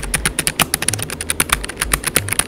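Fast typing on a Keychron K3 V2 mechanical keyboard, a dense run of crisp, close key clicks with an uneven rhythm and no voices.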